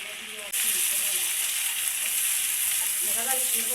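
Bay leaves, cardamom, cumin paste and ginger-garlic paste drop into hot oil and fry with a steady, loud sizzle that bursts up after a brief quiet start and continues evenly, close by with no talking.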